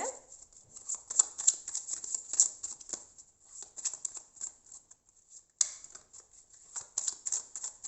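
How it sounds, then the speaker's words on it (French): Tarot cards being shuffled and drawn, crisp riffling and flicking bursts, close and fairly quiet, with a short pause before the shuffling resumes. "Allez, on va chercher 3 cartes encore."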